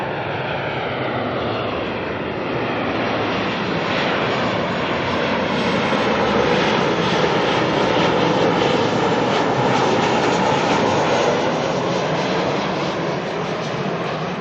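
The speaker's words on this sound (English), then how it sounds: "ASL freighter coming in from Christchurch." An ASL freighter aircraft arrives from Christchurch with a steady, loud jet roar. The roar holds near and even throughout, with no voices.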